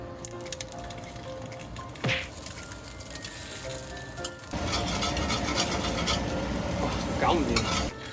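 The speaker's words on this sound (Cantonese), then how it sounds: "再示範多次俾大家睇睇凍鑊同埋熱鑊落嘢食嘅分別" Food hits a hot five-layer stainless steel wok and sizzles, with a sharp scrape near the start and louder steady frying in the second half as a spatula stirs and scrapes against the metal.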